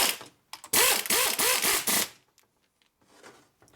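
Pneumatic zip gun tightening bolts on a Harley shovelhead engine during a motor rebuild, a loud rapid ratcheting burst of about one and a half seconds, then a fainter brief buzz near the end.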